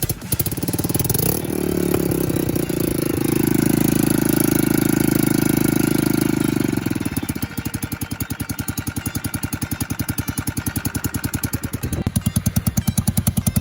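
A Yamaha YBR125 motorcycle with a 5VL engine and a freshly replaced cylinder head runs outside, needing a new exhaust gasket: a loud, rattly idle that revs briefly, then settles into a steady fast-pulsing chug, close up.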